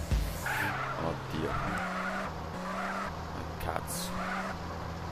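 Car on burst tyres skidding and scraping through a GTA mission, engine droning low with repeated squealing slides, heard under an excited voice talking.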